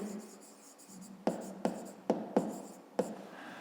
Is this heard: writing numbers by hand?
yes